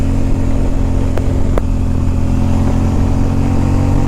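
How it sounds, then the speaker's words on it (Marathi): A powerful 650 cc sport motorcycle revs close by on a ride out to Pawna Dam, producing a loud, steady, throaty engine drone with a couple of brief sharp throttle blips. "जेवढी रेस करताल तेवढी गाडी आवाज काढणार"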